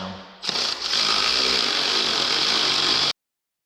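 A power tool runs bolts down during a TRS Powerflow install on a snowmobile, a loud close whirring burst lasting under three seconds before stopping abruptly.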